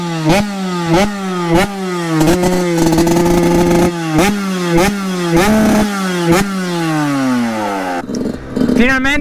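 A Yamaha YZ 125 two-stroke motorcycle engine warms up close by, loud and raspy, with repeated sharp throttle blips rising and falling in pitch between steadier idling stretches.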